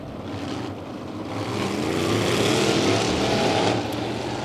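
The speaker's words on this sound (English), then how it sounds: "Even under caution, listening to Noel Teal work the throttle through the turn, trying to keep that car pointed straight." A race car engine drones and rises in pitch as the throttle is worked through a turn, a steady roar with the revs building.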